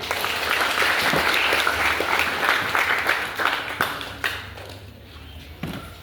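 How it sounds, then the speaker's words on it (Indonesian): A crowd at a scouting ceremony at a navy post breaks into loud, dense applause that holds steady for a few seconds and then thins out into scattered claps. "Tepuk tangan dulu."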